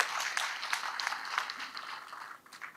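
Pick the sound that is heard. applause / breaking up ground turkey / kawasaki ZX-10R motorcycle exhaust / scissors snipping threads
applause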